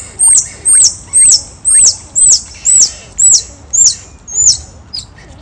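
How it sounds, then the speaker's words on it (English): A baby squirrel calls close by in nine loud, high, squeaky chirps. Each has a sliding whistle-like tone, repeated at an even rhythm about every half second before trailing off. "These squirrels are coming around here."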